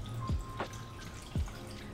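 Water from a tap drips into a container, a few soft separate drops plopping in an irregular rhythm over a quiet background, close and faint.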